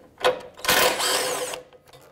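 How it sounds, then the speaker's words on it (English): A ratchet wrench loosens a 10mm bolt under the bumper of a 2009-2015 Honda Pilot during radiator replacement: a short click near the start, then a dense burst of rapid ratcheting clicks for about a second, close and fairly loud. "Remove this 10mm bolt."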